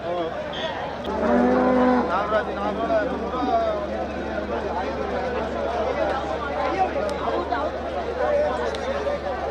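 Cattle low and moo at the Melapalayam cattle market, with deep, drawn-out calls rising over a steady hum of crowd chatter and people talking nearby.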